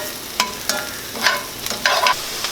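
Onions and mushrooms sauté in a pan, a soft sizzle with several quick scraping stirs of a utensil, close and with no talking.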